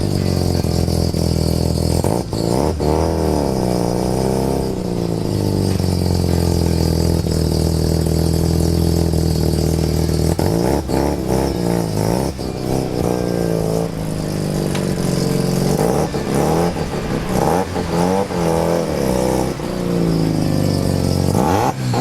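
A Mazda RX3 with a 12a rotary engine revs repeatedly, loud and close, its pitch rising and falling in a series of sharp blips over a steady buzzing idle, with no talking.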